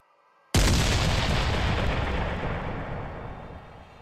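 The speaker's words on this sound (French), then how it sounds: "le premier coup de canon fut tiré, terrible signal" A single cannon shot booms suddenly after a brief quiet, a loud close blast followed by a long rumbling decay that slowly fades over several seconds, alone with no voices.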